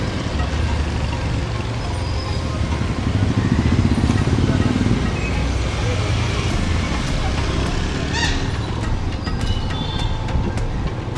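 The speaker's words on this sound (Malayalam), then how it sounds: "ബൈക്ക് കിട്ടിയിട്ട് ഇപ്പോൾ ഇങ്ങനെ പൊയ്ക്കൊണ്ടിരിക്കുകയാണ്." A motorbike rides along a busy road from Kathmandu toward Chandragiri Hills, its engine and wind rumble steady and close throughout, with passing traffic, a few faint horn toots and a voice talking over the noise.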